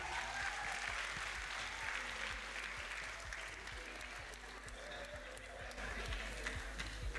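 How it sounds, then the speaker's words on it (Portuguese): Applause from a crowd at a live Cape Verdean storytelling event, a steady broad wash of clapping filling the whole stretch at moderate distance, with faint voices underneath. "Deus dê-lhe uma salva de palmas bem forte para Boca Frágil."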